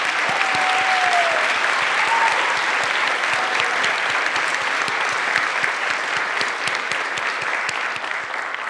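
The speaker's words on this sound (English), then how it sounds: "I'd like to give one more round of applause for everyone" At a National Honor Society induction ceremony, an audience applauds new inductees with loud, sustained clapping. A brief whistle rises near the start, and the applause carries on without talk.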